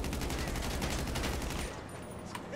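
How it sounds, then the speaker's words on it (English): Rapid bursts of video game gunfire near a military base in Grand Theft Auto Online crackle continuously, dense and loud, then ease off near the end into quieter background noise. "I hear gunshots, but it's not people mad at me."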